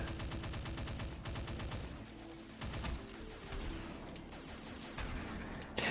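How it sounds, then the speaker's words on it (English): Rapid bursts of assault rifle fire in the first-person shooter Pale Wilds, loud rattling volleys with short pauses and scattered single booming shots, mixed with game noise. "I like the chain gun better than this assault rifle replacement, but at least it makes a good sound"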